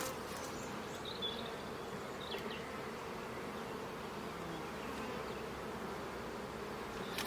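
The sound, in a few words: honeybees buzzing at an opened beehive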